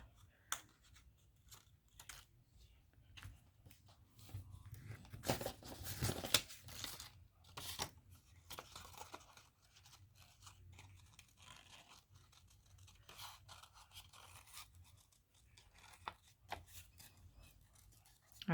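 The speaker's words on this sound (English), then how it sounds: "I always just like to keep curving my scissors in and out." Scissors snip through paper to cut out chipboard-style shapes in quick, irregular crisp cuts, close and faint, with a denser run of snipping midway.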